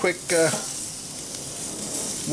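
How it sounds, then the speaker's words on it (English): Steady hissing sizzle of sous vide pork chops searing on a hot grill, with a voice briefly speaking at the start and end. "It's been 45 seconds, they're really sizzling."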